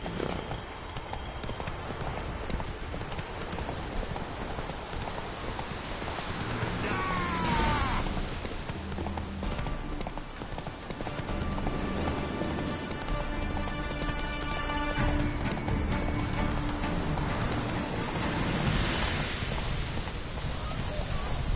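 Roach the horse from The Witcher 3: Wild Hunt, steady in-game hoofbeats clopping over a dense game soundscape with music-like tones and faint voices, continuous throughout.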